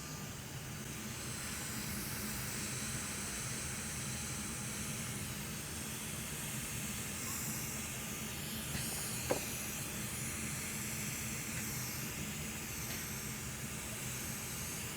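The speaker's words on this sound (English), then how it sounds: "you can use your hot air to preheat this area of the board" A hot air rework station blows a steady, loud hiss of air to preheat a graphics card circuit board. The hiss runs unbroken and close throughout, with a faint tick near the middle and no talk.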